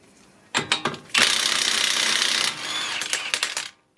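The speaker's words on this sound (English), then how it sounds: "we're using number 32 socket for the lug nut" A power tool working a 32 mm socket on a lug nut of a 2008 Honda Civic: several quick sharp hits, then a loud sustained whirring rattle, and a few final rapid clacks before it stops.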